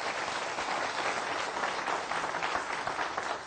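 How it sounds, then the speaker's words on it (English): Broad, steady audience applause from university students in a campus hall, a dense wash of many hands clapping continuously at moderate distance with no speech over it. "Please give yourselves a huge round of applause for having us."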